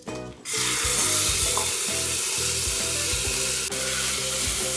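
Rice with cumin and cashews being stirred in hot oil in a pressure cooker, a loud close sizzle with rhythmic scraping strokes of the spoon after a brief quiet start.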